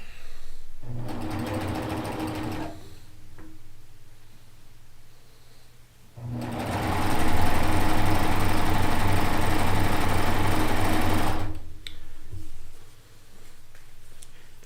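A sewing machine stitches batik quilt pieces together in two loud running bursts, a short one and then a longer steady whir, with a quiet pause and faint handling between them.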